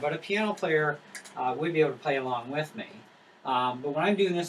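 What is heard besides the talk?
No distinct noise like a dog, phone or traffic.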